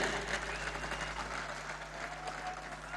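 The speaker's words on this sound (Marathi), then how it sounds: "निष्ठावान या शब्दावर किती टाळ्या पडल्या पहा" Audience at a political rally in Thane breaks into applause, a dense, even wash of clapping that holds steady for a few seconds, fairly faint and heard from a distance, with no talking.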